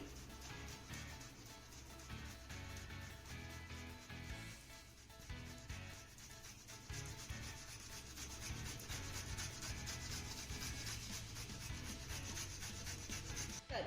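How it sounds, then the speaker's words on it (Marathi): Boiled potatoes are rubbed across a small hand grater in steady, continuous rasping strokes, close and fairly loud for the whole stretch, with no talking. "सर्वात अगोदर हे बटाटे आपण किसून घेऊया त्यासाठी इथे मी छोट्या किसणीचा वापर करते"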